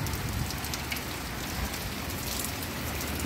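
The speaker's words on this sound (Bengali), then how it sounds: "এই দেখো বৃষ্টি হচ্ছে, হাওয়াও দিচ্ছে" Continuous summer morning rain with wind, pattering on surfaces, dense and even throughout, with no voices.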